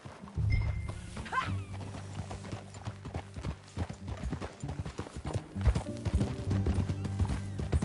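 Steady clip-clop of horse hooves at a trotting pace in Red Dead Redemption 2, with creaking and rustling of movement and a brief whinny early on.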